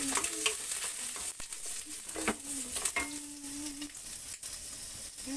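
Ginger sautés in hot cooking oil with a constant bright sizzle and crackle. A utensil stirs the pan in scattered scrapes and taps, close by and fairly quiet.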